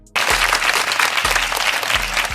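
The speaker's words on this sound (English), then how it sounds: "Clap it up, clap it up" Clapping erupts abruptly and stays loud and dense, with deep bass thumps pulsing regularly underneath like a music beat.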